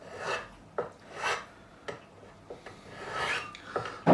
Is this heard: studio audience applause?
no